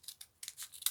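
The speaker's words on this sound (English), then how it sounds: "Cut this bit up here." Scissors cutting through paper to trim it square: several quick, crisp snips, close and faint, with a slight papery rustle between cuts and no voices.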